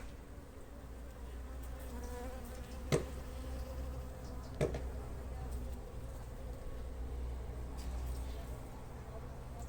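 Honeybees gathered around their queen buzz in a steady, close drone, with a couple of sharp clicks breaking through the continuous hum.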